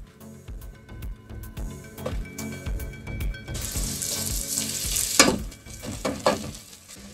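Sliced onions frying in ghee, a close, steady sizzle with repeated stirring and scraping strokes, the hiss growing louder and brighter partway through.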